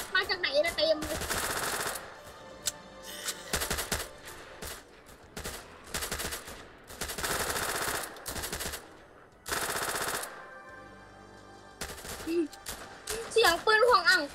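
Rapid bursts of automatic gunfire from the video game Go Go Zombie fire repeatedly, broken by short pauses, with voices talking at the start and near the end.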